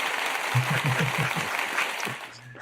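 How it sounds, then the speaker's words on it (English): Applause breaks out for a supporter named John during a livestream, a wash of clapping with a low voice briefly cutting in near the start before it thins toward the end. "he gets a clap. He gets an applause."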